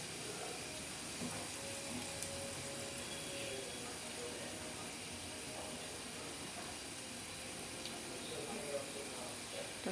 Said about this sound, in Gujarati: લસણ બ્રાઉન કલરનું થાય ત્યાં સુધી સાતળવા દેવું